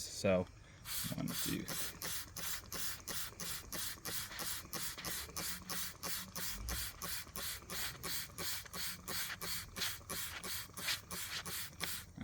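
Trigger sprayer mist hitting a dry spa filter, about thirty quick evenly spaced hissing squirts in a steady rhythm, close by, with a brief spoken count at the start.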